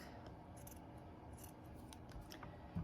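Scissors snip through fabric while making a St. Patrick's Day gnome, a series of quiet close-up crisp cuts and rustles over a faint steady hum.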